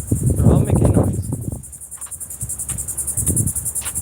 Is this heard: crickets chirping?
yes